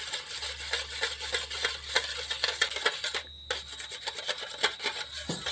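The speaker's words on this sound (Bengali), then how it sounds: "আমি সব উপকরণগুলোকে দিয়ে ভালো করে মিশিয়ে নিয়েছি" Dessert ingredients for a bread-based sweet, flavoured with cardamom, stirred together in a bowl, giving a steady scraping, rubbing rhythm of repeated strokes, close and fairly quiet, with no voices.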